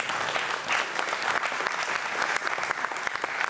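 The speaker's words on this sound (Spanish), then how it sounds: "Démosle palmas al Rey de Reyes." A church congregation claps together in loud, sustained applause, close and dense throughout the moment.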